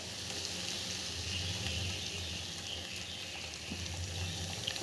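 Herbal leaf hair serum boiling in a pan, a steady, soft bubbling and sizzling hiss that stays even and fairly quiet throughout.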